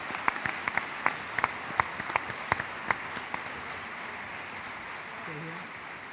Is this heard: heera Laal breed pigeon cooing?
no